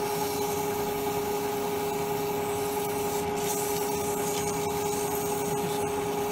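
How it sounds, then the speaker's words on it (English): Turned wood spinning on a lathe and sanded with 240-grit sandpaper, a continuous close rubbing hiss over a steady motor hum. "just 240 sandpaper."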